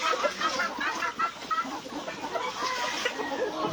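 Chickens on a small farm cluck in a busy overlapping chorus while being fed, close and steady for a few seconds.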